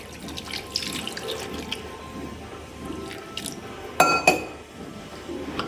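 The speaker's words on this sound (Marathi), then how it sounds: "अजून आपल्याला पाणी लागणार आहे, आपण टाकूया पाणी याच्यामध्ये" Water runs and trickles quietly into a vessel of fish curry, broken by a sharp clink of glass or metal partway through, with no talking.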